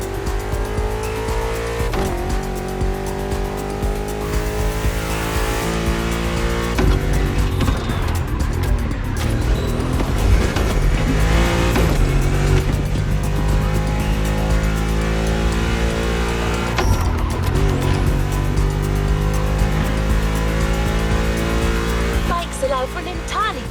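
A BMW R1200 GS motorbike ridden at speed, its engine droning steadily and loudly throughout with rising and falling pitch as it accelerates and shifts, alongside music-like tonal layers and voices.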